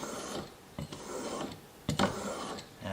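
A steel chisel is pushed back and forth across a fine sharpening stone, making repeated gritty rasping strokes with brief pauses between them, close up and with no voices.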